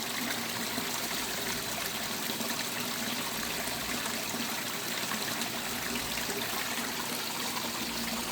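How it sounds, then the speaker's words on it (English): Water splashes over a small ledge and trickles into a garden pond, falling past a log. The sound is a steady, close, continuous splashing and dribbling that stays even throughout, with no voices. "You can see the splash kind of comes over and actually goes into the pond."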